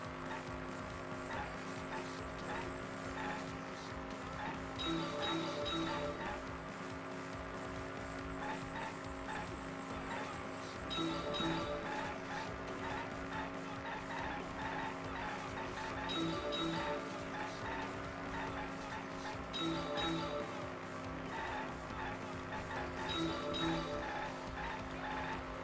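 A car in the Danganronpa V3 video game drives along with a steady engine drone, and sharp tire squeals repeat every few seconds over game music and sound effects.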